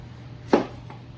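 A single crisp knife stroke slicing an onion into thick rings on a board, one close chop followed by a faint second touch, otherwise quiet.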